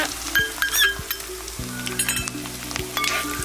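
Ginger and green chillies added to a hot pan after cumin and garlic, sizzling steadily with bursts of crackle, clinks of a metal spoon against the pan, and a low electrical hum beneath.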